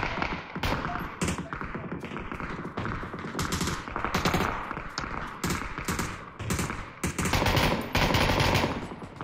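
Gunfire in the PUBG battle royale video game, rapid bursts of automatic fire and single shots in clustered volleys, loud and close, repeating through the stretch with no talk.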